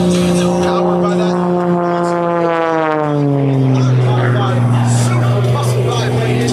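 Aerobatic propeller airplane with a powerful radial engine performing a torque roll at a military air show, its loud roaring drone sliding steadily down in pitch as the plane passes, with an announcer talking over it.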